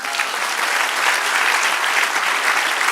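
Congregation applauding during a church service, a steady, dense wash of many hands clapping together, loud and sustained with no voice standing out.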